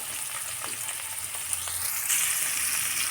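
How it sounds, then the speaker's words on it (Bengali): Onion and cumin frying in hot fish oil left from frying fish, a continuous close sizzle and crackle with faint stirring, rising slightly louder toward the end, no voices. "মাছের তেলের মধ্যে এবারে পেঁয়াজটা দেব"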